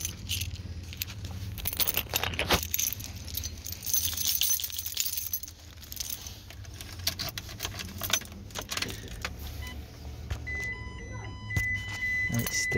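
Car keys jangle and clink repeatedly in bursts close by, with occasional rustling and handling noise; a voice speaks briefly in the background.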